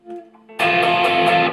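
A clean electric guitar note rings briefly, then a Tube Screamer overdrive pedal kicks in with a loud, gritty distorted chord that sustains with a slight pulsing.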